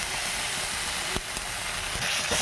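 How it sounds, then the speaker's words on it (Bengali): Tomatoes fry in a pan with turmeric and salt, giving a steady, close hiss of sizzling with a brief stir-like clatter partway through. "টমেটোটা আমার ভাজা হয়ে যাচ্ছে, আর টমেটোর কাঁচা গন্ধটাও চলে যাচ্ছে।"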